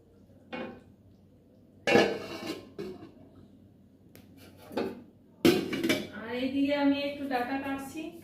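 Dishes and pots clatter as plates are set over cooked food to cover it in a home kitchen, with a few separate knocks and clinks followed by a longer scraping clatter, near and moderately loud.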